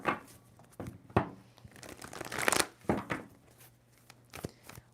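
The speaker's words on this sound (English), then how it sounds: "2 more shuffles." A tarot deck is shuffled by hand in a quiet room, a series of close crisp riffling and slapping bursts of card noise at irregular intervals.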